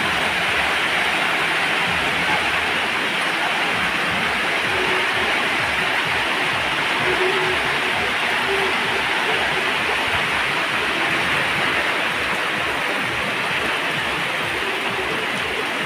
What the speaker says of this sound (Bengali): আল্লাহর নিয়ামতের বৃষ্টি হচ্ছে অবিরাম গতিতে।